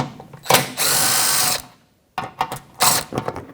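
A ratchet wrench removes the ball joint shield bolts under a 2007-2017 Jeep Patriot 2.4L, giving two bursts of rapid clicking close by with a short pause between them.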